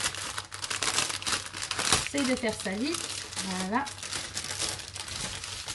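Plastic bags holding diamond painting drills crinkle and rustle steadily as they are opened, close and loud, with a voice speaking briefly over the handling.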